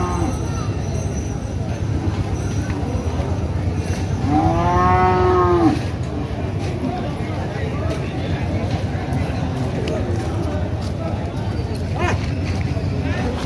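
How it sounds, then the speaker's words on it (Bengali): Cattle at Tayarpur cattle market in Rajshahi: one long, loud, close moo rises midway through a constant din of market crowd noise and background voices. "দেখানোর চেষ্টা করছি আজকের তায়ারপুর হাটের গরুগুলো"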